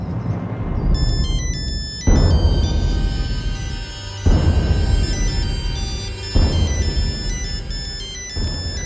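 A phone ringtone plays a repeating electronic melody, restarting in regular cycles about every two seconds, loud and close with no talking.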